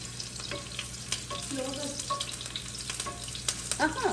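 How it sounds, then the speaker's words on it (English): Chilies crackle and sizzle in a hot pan during a quick stir while an egg dish for kids is cooked, a steady fry with light scraping and a few faint clinks. "We can take a quick stir."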